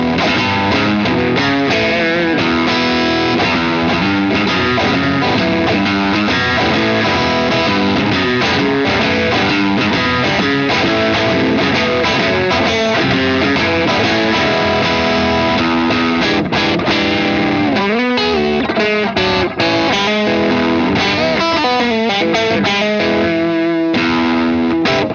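Electric guitar through a Wampler Moxie green overdrive pedal, two pickups together with coil split and tone pushed up, playing loud, continuous bluesy riffs and chords with gritty distortion and no talking.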